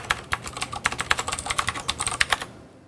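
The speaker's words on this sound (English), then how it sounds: "someone installed a mechanical keyboard that ruins ruins microphones" Rapid clicking on a mechanical keyboard, a close, bright stream of uneven keystrokes lasting a few seconds before stopping, with no voices.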